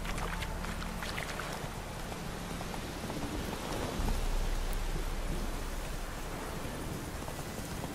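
Steady rain pours down in The Witcher 3, a dense, continuous hiss of falling drops that fills the whole scene at constant loudness, with no talk.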